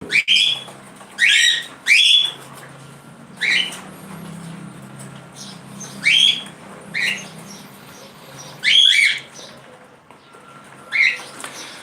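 Breeding cockatiels, Lutino and Whiteface birds, let out sharp repeated squawks in separate bursts about a second apart, loud and close over a faint low hum.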